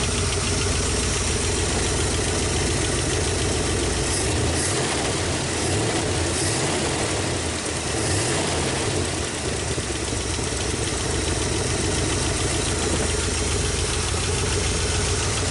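A 1959 Ford Galaxie 500 V8 idles loudly and close up with a dense, constant mechanical clatter, the fast lifter tick blending into the engine's rumble.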